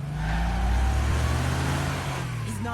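A car guns its engine in The Wolf Among Us, a loud close roar that holds steady and then eases off slightly near the end, with no talking.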